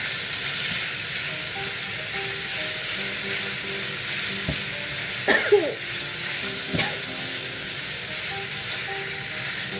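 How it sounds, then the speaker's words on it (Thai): Pork stir-fried dry with southern Thai yellow curry paste in a pan, a continuous close sizzle and hiss with a few spatula scrapes and knocks partway through. "คั่วให้สุกก่อนค่ะ"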